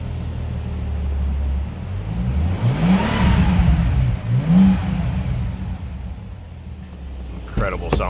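A 2010 Bentley Continental Supersports engine revs up in two rising and falling bursts, fairly close and loud, over a steady low idle rumble.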